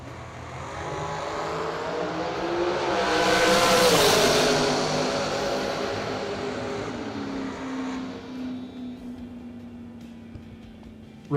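A winged dragster and a wingless Race Tech entry run a drag race, engines roaring as they pass close by. The sound swells to a peak and then fades into the distance.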